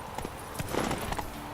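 Horse hooves clip-clop in a video game, a few quick hoof strikes in an uneven rhythm over a steady background hum.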